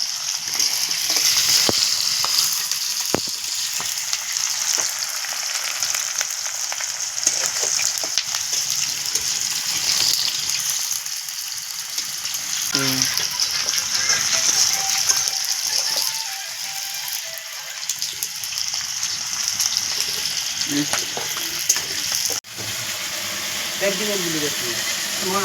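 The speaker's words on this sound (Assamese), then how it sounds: "পিঁয়াজ দি দিলোঁ, তেল গৰম হৈ গৈছে।" Onions dropped into hot oil frying for a meat curry, a steady hiss with intermittent clicks and clatter of utensils, while a person talks intermittently over it.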